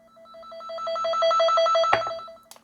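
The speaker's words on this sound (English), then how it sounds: "when this probe gets close to that cable, it will emit that noise and the light will come on" A network cable tester probe held near a cable emits a warbling electronic tone that pulses rapidly and steadily for about two seconds, then a sharp click cuts it off, followed by a faint tap.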